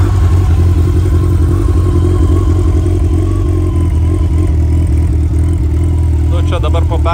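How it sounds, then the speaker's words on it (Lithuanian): A modified Yamaha FJR1300 motorcycle idles loudly close by, a deep, steady low-pitched engine rumble with mechanical clatter, heavy bass and a slight rise in revs near the end. "Iš variklio daugiau garso negu kad iš išmetimo."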